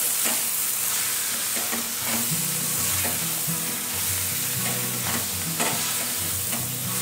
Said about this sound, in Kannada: ಚೆನ್ನಾಗಿ ಹುರ್ಕೊಳ್ಳೋಣ ಮಸಾಲೆನ